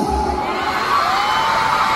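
Crowd of fans shouting and cheering at an SB19 fan meet, a dense, steady roar of many voices with a few higher whoops rising over it throughout.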